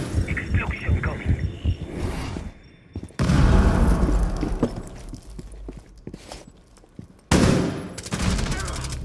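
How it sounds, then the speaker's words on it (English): Booming blasts and bursts of gunfire in a ranked Theme Park match of a shooter video game, with heavy explosive hits at several points, crackling rapid fire between them, and players' voices over the din. "Explosion coming."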